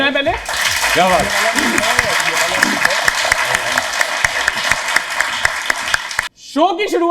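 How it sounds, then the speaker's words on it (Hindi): Loud, dense applause from a studio audience at a comedy show, with scattered cheers mixed in. The clapping runs steadily for about six seconds, then stops abruptly, and a voice follows. "जोरदार तालियां हो जाए पहले"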